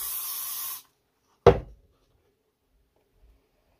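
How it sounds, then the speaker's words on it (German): A powdery-scented body spray is sprayed onto a cloth: a single close, hissing burst of under a second, then a short clunk as the can is set down, with quiet afterward. "Ich werde das mal hier auf so ein Tuch sprühen"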